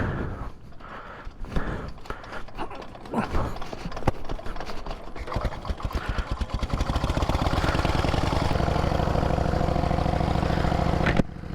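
A pre-1919 veteran motorbike engine clatters and sputters unevenly, then settles into a loud, steady running drone close by, in outback Western Australia.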